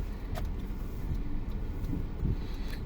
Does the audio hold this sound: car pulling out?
yes